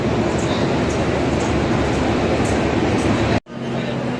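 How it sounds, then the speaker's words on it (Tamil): Loud, continuous rumble of a train to Shirdi at a railway station in Chennai, steady and close, ending in a sudden cutoff followed by quieter hum. "இதான் ஸ்ரீடி போகிற ட்ரெயின்"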